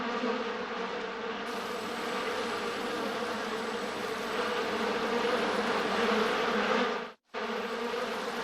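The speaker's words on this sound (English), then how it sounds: "Bees. Why did it have to be bees?" A dense swarm of bees buzzes continuously, a steady droning hum that cuts out for a brief moment near the end before resuming.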